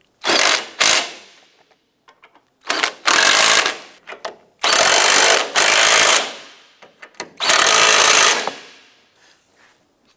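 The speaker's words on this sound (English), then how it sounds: "Let's go ahead and tighten down our four cross brace bolts." A power ratchet tightens the cross brace bolts on a 2005–2007 Ford Five Hundred during an engine torque strut mount replacement, four loud separate whirring bursts with short clicks between them, close by and with no talk.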